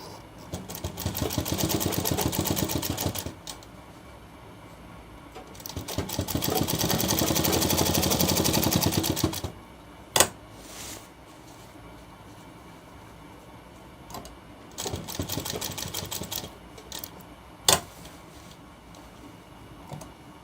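Sewing machine running in three separate bursts while stitching a folded shirt edge, a steady mechanical whir for a few seconds each time, with sharp clicks and quiet pauses in between.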